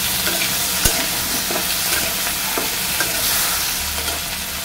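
Washed potatoes, beans and carrots frying in a pan: a continuous loud sizzle with a few sharp utensil clicks and stirring scrapes spaced through it, no voices.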